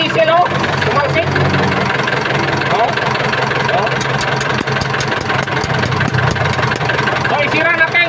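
Diesel engine running roughly with a misfiring cylinder, a steady loud close-up chugging drone with an uneven beat throughout, people talking over it.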